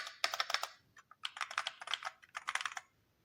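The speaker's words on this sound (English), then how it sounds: "here's an aluminum keyboard." Close, crisp typing on an aluminum-bodied mechanical keyboard, rapid clusters of sharp clacky keystrokes separated by brief pauses, heard alone without talk.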